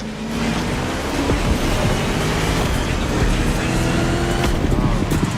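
A 1969 Mustang Boss 429 drives steadily in The Crew Motorfest, its engine a loud, continuous rumble with no break over the few seconds, some music or background sound mixed in.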